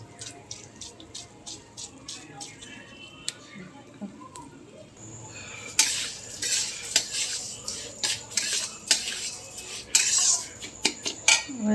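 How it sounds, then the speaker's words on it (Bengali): Rice being fried and stirred in a pot while making pulao, with a stirring spoon clattering and scraping against the metal in frequent close taps that grow louder and busier in the second half. "চালটা দিয়ে চালটাকে একটু ভেজে নেব আর এর মধ্যে একটু কালারও দিয়ে দেবো"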